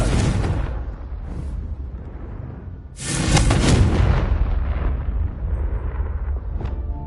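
A Confringo blasting spell in a Wizarding World video game sets off a deep rumbling explosion, followed a few seconds later by a louder, bursting blast that rolls and fades into a low roar.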